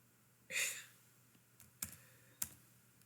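A few light clicks of typing on a computer keyboard, sparse and quiet, separated by pauses after a short breathy sound at the start.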